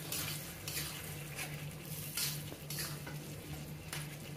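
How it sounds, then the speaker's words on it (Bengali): Spatula stirring fried cauliflower with tomato and spices in a pan, a steady sizzle under repeated scraping strokes and utensil clatter, close and continuous with no talk. "এবার টমেটো, মশলা এবং এই ফুলকপিটা সুন্দর মতো নেড়ে চেড়ে বেশ কিছু সময় ধরে কষিয়ে নেব।"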